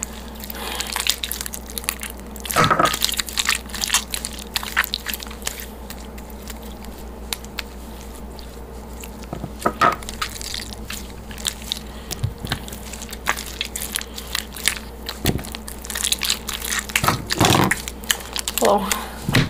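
Squishy homemade mixture being mixed and stretched in a bedroom, giving soft wet squelches and sticky pops in scattered bursts, close by, with brief talk in the background.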